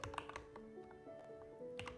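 Typing on a newly bought entry-level Mac keyboard, a quick run of close clicky keystrokes with a steady tonal hum running underneath.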